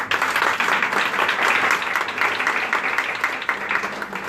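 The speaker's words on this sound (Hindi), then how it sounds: "मेरी वाइफ के लिए जोरदार ताली बजा।" Applause from a prayer-gathering audience in the street, dense steady clapping filling the whole stretch, moderately loud, with a faint voice underneath.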